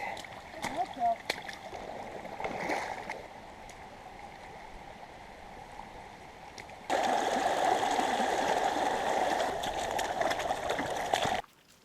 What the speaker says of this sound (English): It just looks like a creek.